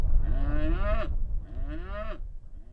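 Grass-fed cattle lowing on open pasture, two long moos one after another, fairly close and loud over a low rumble of wind.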